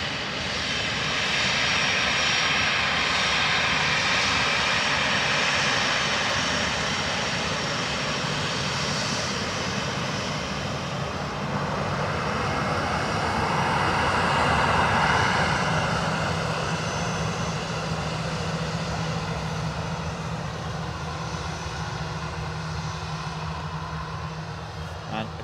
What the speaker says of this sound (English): And a 321 Neo from Paris, Aer Lingus as well.